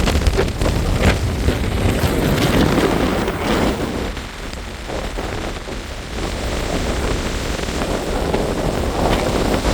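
Steady waves and surf roll onto a beach beside a pier in County Wicklow, a loud continuous wash with heavy wind buffeting the microphone throughout.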